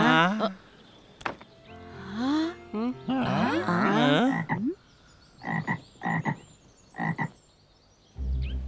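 Cartoon frogs croak from an animated children's series, with several short, loud croaking bursts in a row, some stacked with tonal, voice-like calls, and a brief sharp knock partway through.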